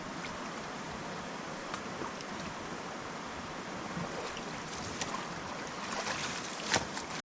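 Water runs through a freshly cleared stream channel past a spot once blocked by rock, a soft steady trickling wash with small splashes and gurgles, fairly quiet and close.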